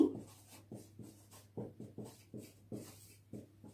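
Chalk or marker scratching across a classroom board during a Bengali lesson, a string of short rhythmic strokes with brief pauses between them, fairly faint over a steady low room hum, with no voices.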